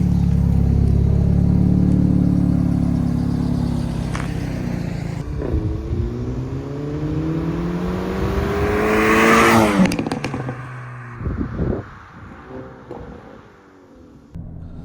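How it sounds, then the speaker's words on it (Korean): A facelifted Hyundai Avante N drives with its exhaust roaring under acceleration, the engine note rising through gears with shift drops, then crackles and pops as the revs fall off, loud and close. "배기음의 전체적인 음색 자체는 달라졌지만 음량은 줄어들지 않은 것 같아요"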